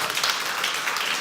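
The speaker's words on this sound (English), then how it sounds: "Can we make a round of applause?" An audience at a fintech conference claps in a short, dense round of applause, steady and full for the whole moment, with no talking over it.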